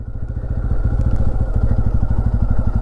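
A motorcycle labouring through deep sand on a forest track, its engine thumping in a fast loud pulse close to the microphone while the wheels slide from side to side.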